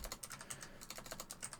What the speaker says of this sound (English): my fingers start typing other letters